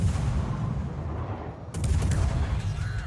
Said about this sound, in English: He says as he opens fire.